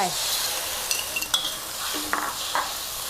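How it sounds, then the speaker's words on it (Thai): Canned fish sauce stir-fried in a hot pan with garlic and chilli, a bright hissing sizzle under quick scraping strokes and light metallic clinks of the utensil against the pan. "ผัดน้ำซอสให้โดนความร้อนนะคะ"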